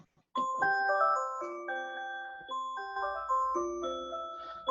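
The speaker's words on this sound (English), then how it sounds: "Sorry, that's my alarm." A melodic alarm tone chimes out a stepping series of bright notes, loud and steady for several seconds and cutting off sharply, with no talking over it.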